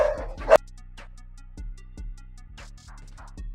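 Several dogs bark back and forth in short, sharp bursts at moderate distance, after a brief loud knock or thump at the start, with gaps of quiet between the barks.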